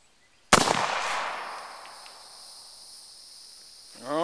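Duck foot pistol fires a single sharp, loud volley close by, its report ringing and decaying for several seconds before a faint rising hum creeps in at the end.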